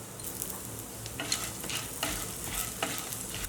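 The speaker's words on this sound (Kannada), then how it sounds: "ಧನಿಯಾ 1 ಟೀ ಸ್ಪೂನ್ ಅಷ್ಟು, ಕಡಲೆಬೇಳೆ 1 ಟೀ ಸ್ಪೂನ್ ಅಷ್ಟು ಚೆನ್ನಾಗಿ ಕೆಂಪಗಾಗುವವರೆಗೂ ಹುರ್ಕೊಳ್ಳೋಣ." Dry red chillies, coriander seeds and chana dal roasting in a little oil, heard as a faint, soft crackle with light scraping of a spoon stirring them at intervals, and no speech.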